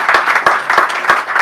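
Applause from a small audience at a poetry reading in a café setting, a busy patter of hands clapping close by, steady and lively across the short stretch with no speech.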